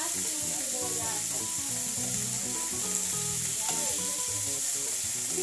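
Garlic and onion sauté in hot oil in a pan for chicken humba, giving a steady close sizzle with soft stirring scrapes underneath and no talking.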